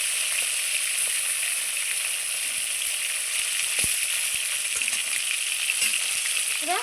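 Snakehead fish heads and fish pieces fry in a kadai, giving a loud, steady sizzle with a few light clinks of stirring, no voices.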